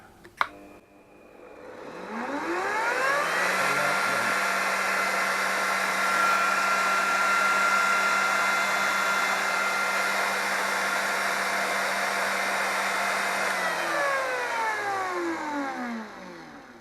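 A router motor on a homemade mill/lathe spins up from a click into a rising whine, holds a loud steady whir for many seconds, then winds down as it slows.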